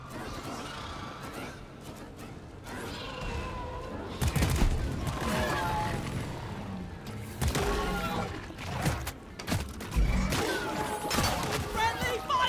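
Gunfire in a shooter video game: repeated bursts of shots and sharp impacts, loud and close, with players talking over the action.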